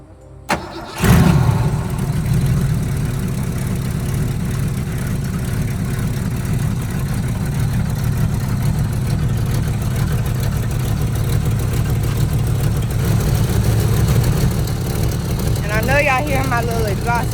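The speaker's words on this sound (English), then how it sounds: "I gotta start the engine up to pour the rest of the coolant in" A 1985 Ford Mustang with a stock motor and an exhaust leak cranks and fires up close by, then settles into a loud, steady low idle that runs on, with a voice talking near the end.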